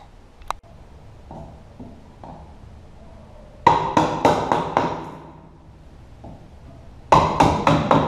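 Sharp metallic hammer taps from the back of a hammer, knocking out the locking wedges while installing a door in a drywall opening, arriving in two loud rapid bursts of five or six strikes, with faint scraping between.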